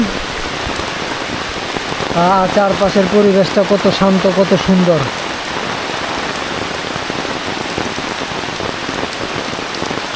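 Heavy rain pours steadily throughout, a dense hiss, while a person speaks briefly near the middle.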